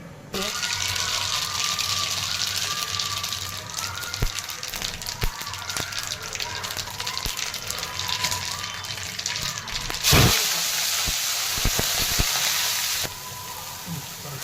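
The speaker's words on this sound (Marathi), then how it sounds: "तर तेलामध्ये जिरी टाकलेली आहे मोहरी टाकलेली आहे कढीपत्ता हिरवी मिरची लसूण अद्रक कोथिंबीर" Cumin, mustard seeds and curry leaves sizzle in hot oil as the tempering for a Mumbai-style vada pav potato filling, a steady close frying hiss with no talk over it.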